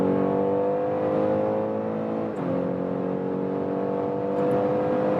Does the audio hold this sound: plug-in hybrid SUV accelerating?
yes